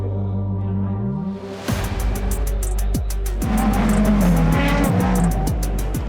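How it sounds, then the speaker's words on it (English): Race cars at Le Mans crash in an opening-lap pile-up: roaring engines and passing cars, tire squeal and skidding, with several sharp crash thuds over a steady, loud engine drone. "But quickly, too quickly, the 15 is involved in a pile-up in the opening lap."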